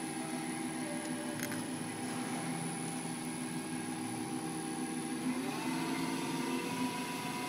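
A Hardinge speed lathe runs with no part in the collet at variable speed, giving a steady motor hum with a tone that climbs partway through as the speed is raised.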